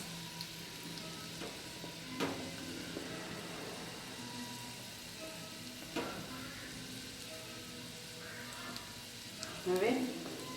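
Okra sliced into rounds fries in a pan with garlic cloves, giving a soft, steady sizzle. A few light clinks of stirring sound faintly in the background.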